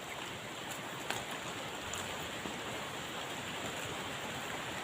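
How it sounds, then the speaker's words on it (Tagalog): Rain falling in a forest near a cornfield, a dense steady hiss of drops with a few sharper patters, soft and continuous with no voices. "Ayan mga idol, umuulan no."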